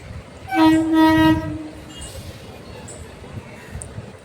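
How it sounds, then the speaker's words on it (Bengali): A train horn sounds a sustained blast for about a second near a railway station platform as a train bound for Sealdah pulls in, followed by quieter rail and platform ambience. "শিয়ালদা যাওয়ার ট্রেন ওই যে ঢুকছে দেখো"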